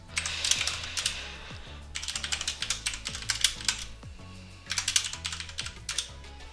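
Quick clusters of keystrokes on a computer keyboard while JavaScript code is typed, close and clear, in bursts with short pauses, over a faint low musical hum.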